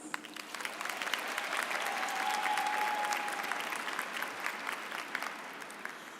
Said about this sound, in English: Join me in a round of applause for the Spelman College Board of Trustees.